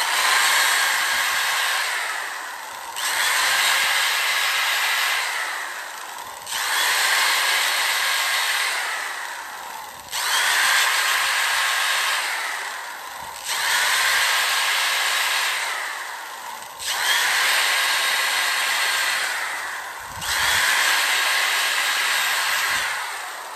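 A steady, loud abrasive whirring runs in repeated bursts of about three seconds, each stopping briefly before starting again, as a small oval silver poplar bowl is power sanded.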